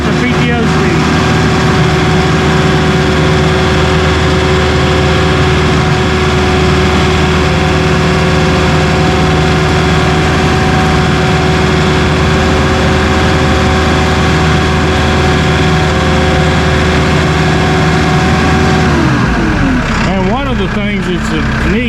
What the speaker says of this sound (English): You rev the engine, the faster it's going to run